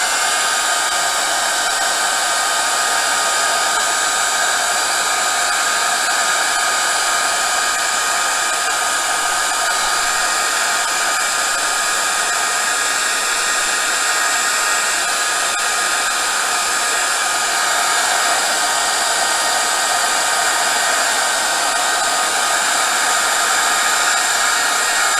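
A heat tool runs steadily and loudly for the whole stretch, blowing hot air to melt slow-melting embossing powder on a recycled heart canvas, a constant airy roar with no talk.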